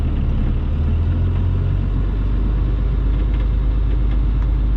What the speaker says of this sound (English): It sounds like the transmission.